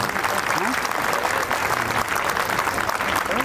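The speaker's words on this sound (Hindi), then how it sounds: "तालियां बजाइए parents." Sustained applause from an audience of parents at a school prize distribution, dense and even, with clapping continuing throughout and a voice faintly audible underneath.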